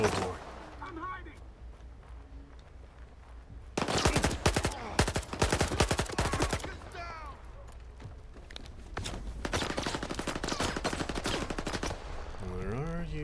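Gunfire in S.T.A.L.K.E.R. 2, rapid automatic bursts in two long loud stretches separated by quieter gaps, with some talking underneath.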